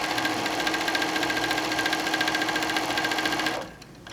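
A sewing machine runs fast and steady, stitching down quilt fabric in a close, even whirring rattle for several seconds before stopping abruptly.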